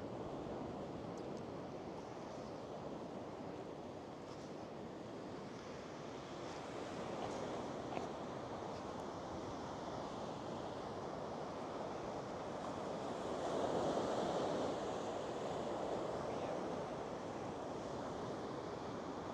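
Surf washes onto the beach at Noja on the Spanish coast as a continuous broad roar mixed with wind buffeting the microphone, swelling slightly near the end, with no voices.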